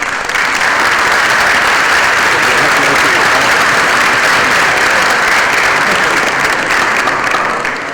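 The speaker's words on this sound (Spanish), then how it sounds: "Quiero pues que le demos un fuerte aplauso al profesor por su gran labor." A crowd at an academic lecture on the origins of farming societies in the Near East applauds a professor, dense and loud throughout.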